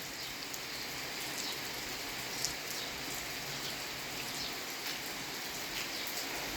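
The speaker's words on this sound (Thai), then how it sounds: "ฝนตกลินลินนะเนาะ" Light rain falling steadily outside at a rural resort, a soft even hiss of drops with occasional closer patters, continuous and fairly quiet with no voices.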